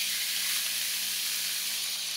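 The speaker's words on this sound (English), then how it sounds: "That sizzle lets you know that the pan is right." A seasoned rib-eye steak sizzles in a hot pan, a steady, close, bright hiss that stays even and uninterrupted from start to end.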